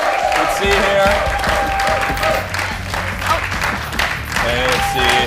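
Studio audience clapping and cheering to urge on a contestant during a timed 60-second challenge, a steady dense wash of applause with scattered whoops and voices mixed in throughout.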